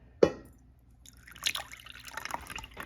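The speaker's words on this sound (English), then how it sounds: "pour it into a bigger measuring cup" Liquid for a gourmet salad dressing is poured from a full measuring cup into a bigger one: a sharp clink, then a quiet, uneven trickle and splash, faint and close.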